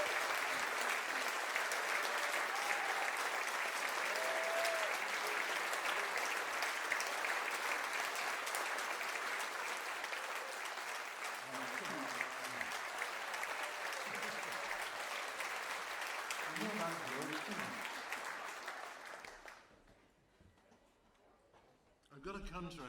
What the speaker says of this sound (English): let's have a great round of applause,